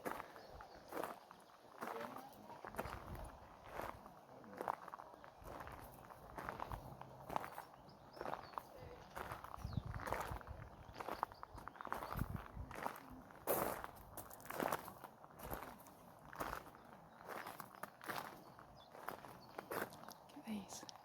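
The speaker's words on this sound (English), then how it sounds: "Again, this lovely gravel noise for you." Footsteps crunch steadily on gravel in a garden, a close, even walking rhythm that runs the whole time under quiet outdoor ambience, with a voice speaking softly over parts of it.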